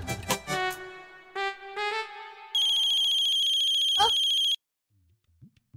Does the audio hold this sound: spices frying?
no